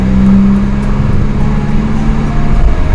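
A manual car drives in second gear with a loud, steady low engine drone and road rumble from inside the cabin, a brief higher hum near the start.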